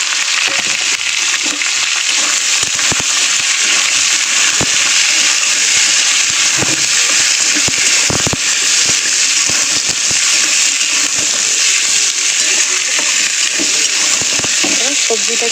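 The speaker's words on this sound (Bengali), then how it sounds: "এখানে তেলের মধ্যে 5 ফোড়ন দিয়ে দেবো।" Five-spice seeds (panch phoron) sizzle and crackle in hot oil, a loud, steady frying hiss dotted with sharp pops and spits throughout, with a voice speaking faintly over it.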